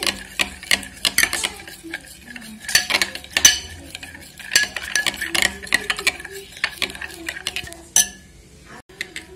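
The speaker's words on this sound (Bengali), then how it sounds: "তো দইটাকে প্রথমে আমি খুব ভালোভাবে এটা ফেটিয়ে নিচ্ছি।" Yogurt is whisked briskly in a bowl, giving a steady run of quick scraping stirs and light clinks of utensil against the dish that continue almost without pause.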